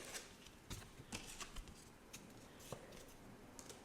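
A deck of tarot cards is shuffled steadily, with faint papery riffles and scattered sharp taps over a low, hissy background, quiet and continuous.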